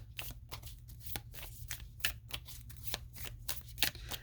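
A deck of cards is shuffled over and over, giving a close, steady run of sharp riffling bursts and soft slaps over a constant low hum, with no voice.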